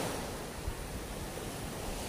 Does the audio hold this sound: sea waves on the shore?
yes